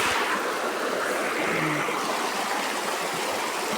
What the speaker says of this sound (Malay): Kalau boleh tengok air deras.